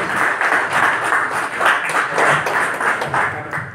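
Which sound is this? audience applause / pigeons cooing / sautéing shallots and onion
audience applause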